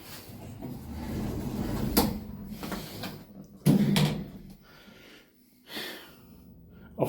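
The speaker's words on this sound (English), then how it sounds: "Doors closing." Lift doors at a footbridge close with several separate knocks and thumps spread out over a few seconds, between quieter stretches of hum.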